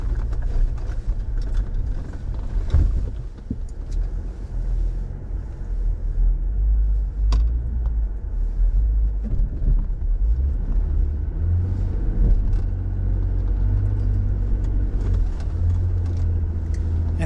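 A Jeep Gladiator Mojave crawls off-road through tight desert terrain, its engine a steady low rumble rising and falling with throttle, plus occasional knocks and clunks from the chassis over rough ground.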